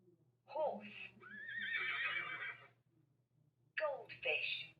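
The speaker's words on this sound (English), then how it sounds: "Horse." A horse neighs in a children's first-words learning program: a loud, close whinny with a long quavering middle, then a second shorter call, alongside a brief spoken word.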